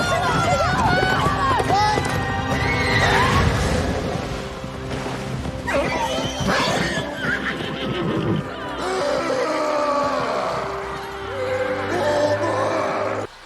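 Horses neighing and whinnying in a dramatic fantasy series scene, several loud, high calls rising and falling over galloping hooves, crashing and a busy soundtrack, with shouting voices mixed in.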